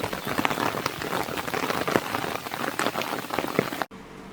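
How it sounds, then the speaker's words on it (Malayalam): Steady rain pours down in Parambikulam forest, a dense continuous patter of drops on leaves and surfaces, loud and close, cutting off abruptly near the end. "മഴ നല്ല പോലെ പെയ്യുന്നതുകൊണ്ട് തന്നെ വെള്ളത്തിൻ്റെ അളവ് കൂടുതലാണ്"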